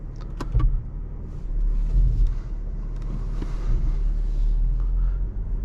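A 2024 BMW M440i Coupe cruising on the highway, heard from inside the cabin as a steady low road and engine rumble, with a few brief clicks and rattles near the start.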